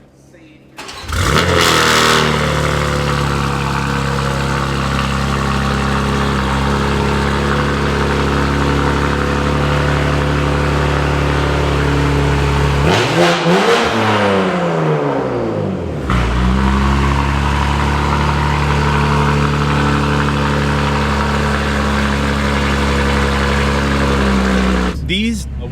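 A BMW G87 M2 fires up with a sharp bark, then idles loud and close with a deep exhaust drone, dropping out briefly in the middle before a second start and steady idle resumes, with occasional voices in the background.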